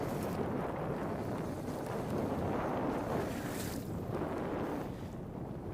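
Wind gusts across the St. Lawrence River in New York during a bass fishing tournament, a steady low roar of rushing air buffeting the microphone, with faint water and boat noise beneath.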